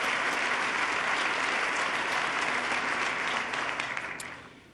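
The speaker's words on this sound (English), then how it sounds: "let's give him another round of applause" An audience in a hall claps for a former New York governor at a State of the State address, sustained even applause that holds steady and then tapers off toward the end.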